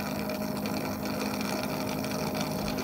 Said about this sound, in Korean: 이 로봇 청소기는 세척판을 스스로 세척하는 기능이 있어서 관리가 정말 간편합니다.